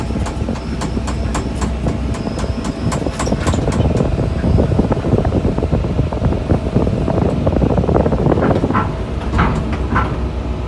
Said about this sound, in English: Walk back and look at the motor while it's running here.